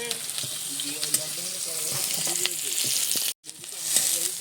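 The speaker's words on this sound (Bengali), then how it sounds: "প্যাঁচটা বেশ সুন্দর করে ভেজে নিয়েছি" Onion frying in oil in a pan for a home-style Bengali fish curry with potato and eggplant, a steady close sizzle with faint voices underneath and a brief drop to near silence late on.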